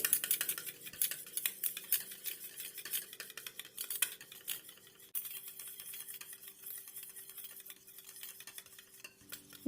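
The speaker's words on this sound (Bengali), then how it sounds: "এবার এই দইটাকে খুব ভালো করে ফেটিয়ে স্মুথ করে নিতে হবে" Two spoonfuls of sour curd whisked hard with a spoon in a steel bowl, a steady run of quick scraping, tapping strokes up close with no talking.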